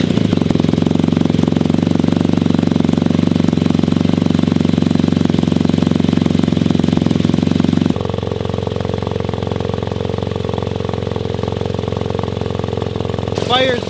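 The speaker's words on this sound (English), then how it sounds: "I'm going to stop talking, and let's hear that exhaust." A BMW R NineT Racer motorcycle idles with a steady, loud, rumbling exhaust note up close, then drops to a smoother lower idle partway through and holds there.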